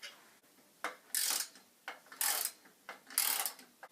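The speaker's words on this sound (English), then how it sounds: "Next you have to screw the tail leg wheels on with 2 screws." Screws are driven to fasten the tail wheels onto a homemade motorless toy go-kart, giving a few close, intermittent ratcheting, ticking bursts separated by brief pauses.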